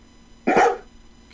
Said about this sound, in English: Labrador barking. That's the name of the sound.